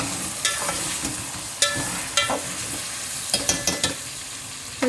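Mutton pieces and onions are stir-fried in a pot: a continuous sizzle under repeated sharp spatula scrapes and clinks against the metal, with no voices.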